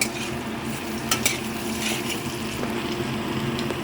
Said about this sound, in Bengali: আলুটা ভাজা হয়ে গেছে সুন্দর লাল লাল করে